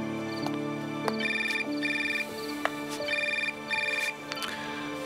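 A telephone rings indoors in a repeated electronic ringtone pattern, with bursts of trilling tones and brief gaps between them, moderately loud and heard alone.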